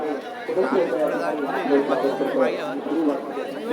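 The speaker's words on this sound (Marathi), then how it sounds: "आणि आता गर्दी वाढली" Dense festival crowd chatter at the Kunkeshwar jatra in Konkan, many overlapping voices murmuring steadily and close around without pause.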